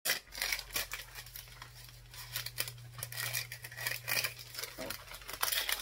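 Packaging from a Dyson Airwrap being unboxed indoors, with continuous close crinkling, rustling and tearing of plastic and cardboard in quick irregular bursts over a low background hum, without speech.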